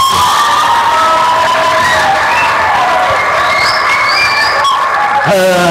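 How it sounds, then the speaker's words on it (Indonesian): Students cheer and applaud for candidates for OSIS (student council) chair and vice-chair at a school debate. The crowd noise is loud and sustained, with shouting and whoops running throughout, and a few voices stand out near the end. "Beri tepuk tangan untuk mereka semua."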